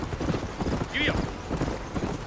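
A horse's hooves clip-clop at a brisk gallop in Red Dead Redemption, steady rapid hoofbeats throughout with a brief whinny in the middle and a voice over the top.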